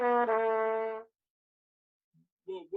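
Trumpet playing a short descending Clark book technique run, a bright brassy line lasting about a second, then silence and a brief fragment of another tone.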